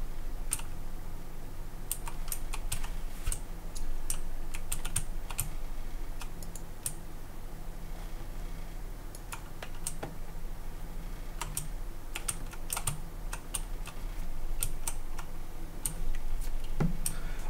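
Rapid computer keyboard typing clicks, close and fairly steady, with irregular bursts of keystrokes over a low constant hum during a hunting game session.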